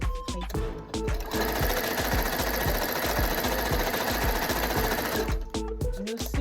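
A sewing machine stitches the seams of an African print jacket in a fast, steady mechanical chatter for several seconds, with short starts and stops at either end and no talking.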